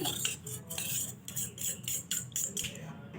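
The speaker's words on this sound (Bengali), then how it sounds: "দেখো আমি ভালোভাবে ব্যাটারটা বানিয়ে নিচ্ছি" Flour and water are whisked into a batter for veg Manchurian. Rapid, close, rhythmic scraping and clicking of a utensil against a bowl, with no talk.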